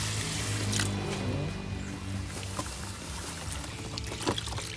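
Water runs and splashes as the roots of an Albuca spiralis Frizzle Sizzle plant are rinsed, making a steady close-up pouring and trickling sound with a few small splashes and no speech.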